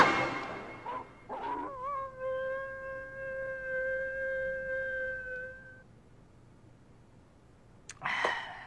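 Dogs give short barks, then one lets out a long, drawn-out whimpering howl that fades away, followed by more sharp barking at the end.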